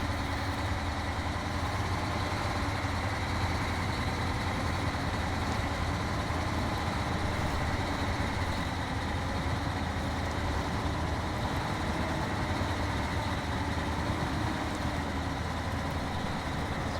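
A truck engine idles steadily in Snowrunner, a low constant rumble with a faint hum, unchanging and alone throughout.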